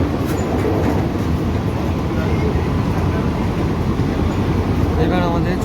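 A Bongaon to Sealdah AC local train, service 33762, runs between stations. From inside the carriage comes a steady, loud rolling rumble with rhythmic wheel clatter that never lets up.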